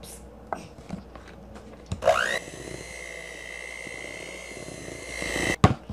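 An electric mixer blending cookie dough with flour, baking soda and salt in a bowl: a bump and clatter, then a steady whining motor drone held for several seconds before a sharp knock as it stops.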